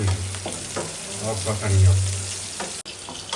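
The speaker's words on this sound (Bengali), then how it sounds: "পেঁয়াজ কষানি হয়ে গেছে পেঁয়াজ ভাজা হয়ে গেছে" Onions sizzle and fry in oil in a hot pan with a bright crackling hiss, punctuated by a few scraping stirs and a sharp tap near the end.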